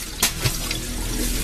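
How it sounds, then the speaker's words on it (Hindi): Water running from a bathroom tap, with face splashes: a steady loud gush of running water with a couple of sharp splashes early on. "मुंह धोने को उसने नल खोला और पानी बार बार अपने चेहरे पर मारने लगा"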